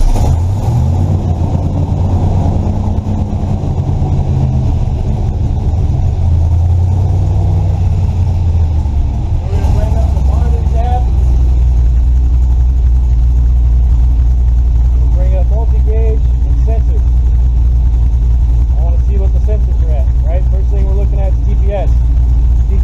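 Engine fitted with a Holley Terminator X EFI system cranking over and settling into a rough, uneven idle, a steady low rumble running throughout at close range, loud and without any voices over it.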